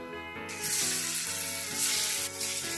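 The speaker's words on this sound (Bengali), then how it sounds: "ওই তেলের মধ্যে গোটা গরম মশলা ফোড়ন দিয়ে দিলাম আর দিয়ে দিচ্ছি পেঁয়াজ কুচি" Onions and whole garam masala frying in hot oil: after a short quiet start, a loud, steady sizzle bursts in and holds, with soft tonal background music underneath.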